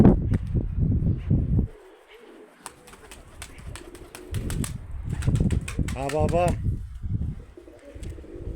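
A five-year-old white Eke pigeon coos in a short rolling burst near the end, with wing flaps and rustling throughout, while someone talks close by.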